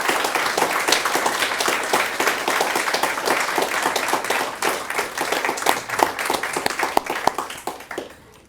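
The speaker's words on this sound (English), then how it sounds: "Please give her the round of applause that she is so richly" Steady audience applause at a 20th anniversary celebration for an investment management firm, with dense continuous clapping that thins and fades toward the end.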